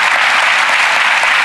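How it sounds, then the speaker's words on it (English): Audience applause in a television magic show studio, loud, dense and steady clapping from a large crowd filling the whole moment with no voices. "A round of applause for Mr. Ross."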